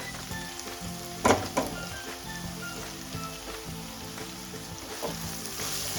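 A ground coconut and onion paste for a sprouted moth bean curry frying in a pan, giving a steady crackling sizzle with a couple of sharper clatters early on, close, with music faintly underneath.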